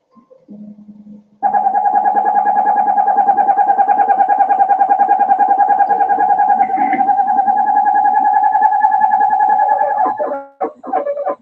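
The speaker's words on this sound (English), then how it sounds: "for the casual onlooker, owls can seem downright alien. For instance, listen to this." A strange owl call: a sustained, steady tonal cry with layered harmonics held for about nine seconds after a short lower note, loud and close, ending with a few brief clipped notes and no speech.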